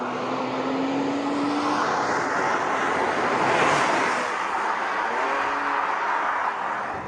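A 2008 Porsche Cayman with a direct-injection engine gives a throaty, continuous roar that holds loud and steady throughout, swelling slightly mid-way with no talk over it.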